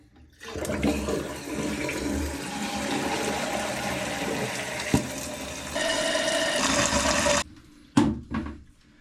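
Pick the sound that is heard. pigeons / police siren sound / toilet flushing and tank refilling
toilet flushing and tank refilling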